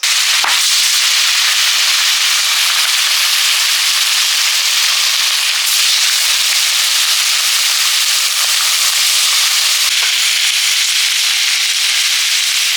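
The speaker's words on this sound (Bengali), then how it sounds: "আলু পটল একসঙ্গে ভেজে নিচ্ছি" Potatoes and pointed gourd fry together in hot oil, giving a loud, steady, hissing sizzle with faint crackles that runs unbroken throughout.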